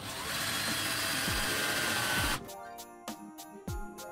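A power drill whirs steadily for a couple of seconds, then stops, followed by a few light clicks and handling noises close by.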